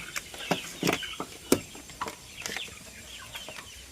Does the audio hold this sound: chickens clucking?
yes